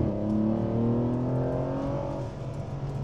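A car engine revs up hard under acceleration, its rising whine climbing in pitch over a deep rumble before easing off, loud and close with no voices.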